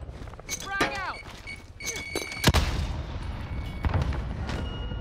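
A frag grenade detonates in Call of Duty Cold War with a sharp, loud blast mid-clip, set among bursts of gunfire and other game combat noise, with voices in the background.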